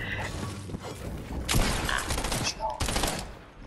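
Bursts of rapid gunfire and clattering shots from a game, loud and close, with brief pauses between volleys and some faint talk mixed in.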